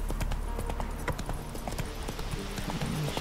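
Horse hooves clip-clop steadily on the ground in the video game The Witcher 3, a close, even trotting rhythm running throughout against a low background bed, with no voices on top.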